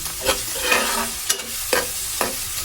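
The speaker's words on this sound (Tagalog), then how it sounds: "nagigisa na tayo ng luya, sibuyas, at bawang" Ginger, onion and garlic sauté in a pan for banana blossom adobo, a steady close sizzle broken by four or five sharp spatula scrapes and taps at a loose, uneven rhythm.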